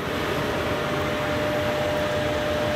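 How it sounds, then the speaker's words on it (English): The air handler of a homemade R134a heat pump running in heating mode gives a steady, fairly loud broadband whoosh of moving air with a faint mechanical hum and no talk. "That noise you hear in the background, that's the air handler."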